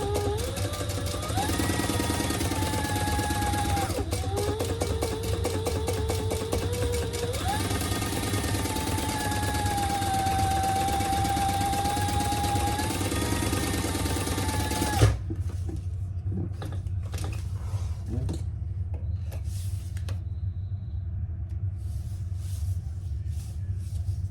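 A sewing machine stitches around the edge of a sling bag with a fast, continuous mechanical whir and rattle close by that changes pitch slightly as the speed changes. It stops partway through, leaving scattered handling clicks and rustles.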